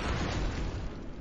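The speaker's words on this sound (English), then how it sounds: "Blow these up. A lot of explosions." A dense, continuous roar of overlapping explosions in the sci-fi video game Space Grunts, loud and rumbling throughout with no pauses between blasts.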